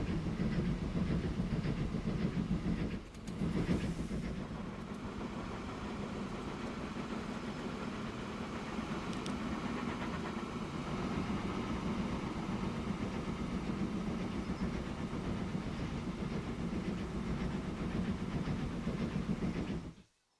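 A passenger train in the game Transport Fever 2 running steadily with a continuous rumbling drone and faint clickety-clack, one brief dip early on, then fading out at the end.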